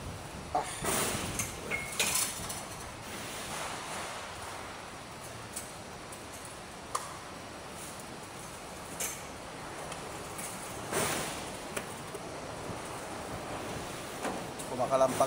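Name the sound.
strong wind making things clatter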